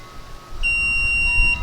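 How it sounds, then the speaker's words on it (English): A single sustained electronic beep, high-pitched and steady, sounds for about a second over faint background noise, from a Hansshow frunk being set into a mode. "We'll hear a series of beeps."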